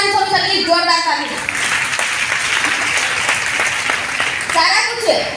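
An audience claps loudly and continuously through most of the moment, with a voice talking briefly before and after the applause.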